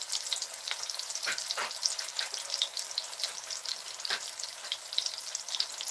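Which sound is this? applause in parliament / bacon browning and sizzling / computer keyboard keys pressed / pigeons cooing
bacon browning and sizzling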